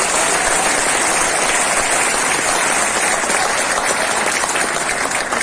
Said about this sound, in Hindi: एक बार जोरदार तालियां सविता मैम के लिए, लाल के लिए।